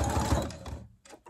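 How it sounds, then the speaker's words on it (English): A sewing machine back stitching over Velcro, a dense close mechanical whir that runs for most of the moment before cutting out into brief pauses and a short restart. "Here we get to the end, and we're gonna back stitch"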